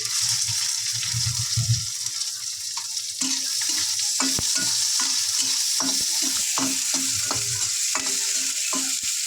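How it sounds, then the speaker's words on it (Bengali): Curry leaves and chopped onion hitting hot oil in a pan for dal, a bright sizzle with stirring clinks and scrapes at an irregular pace, close up, no speech. "দিয়ে দেবো কারি পাতা, দিলাম একটা পেঁয়াজ কুচি,"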